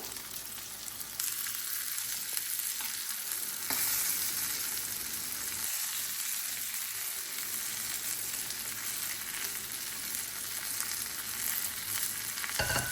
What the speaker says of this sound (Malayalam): ഒരു പാനിലേക്ക് ആദ്യം ഞാൻ കറിവേപ്പില വെച്ച് കൊടുത്ത് എന്നിട്ട് പിന്നെ കുറച്ച് വെളിച്ചെണ്ണ ഒഴിച്ച് അതിലേക്ക് ഫിഷ് വെച്ചിട്ട് പൊരിച്ചെടുക്കുന്നതിന്